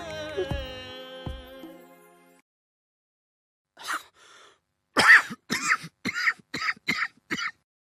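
A person coughs and clears their throat in a short burst of several harsh hacks, close and fairly loud, after a brief musical sting and a pause of silence.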